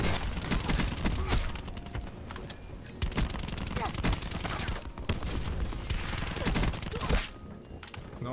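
Submachine gun fire in the video game Black Ops 4, with rapid close bursts of automatic shots that repeat through the stretch, broken by short gaps and mixed with other game gunfire.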